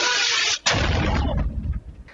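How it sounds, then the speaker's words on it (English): A nearby explosion booms off the coast of Greece during a drone attack on an aid flotilla at sea, following a loud roar that cuts out abruptly, then fading into rumbling noise. "more than a dozen explosions were heard around the flotilla as it sailed off Greece late on Tuesday"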